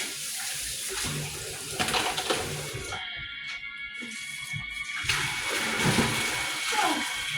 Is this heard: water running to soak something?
yes